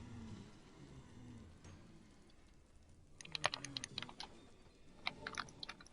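Quick bursts of sharp plastic clicks from the buttons of a Japanese game controller, pressed in rapid clusters, quiet and close, with no talking.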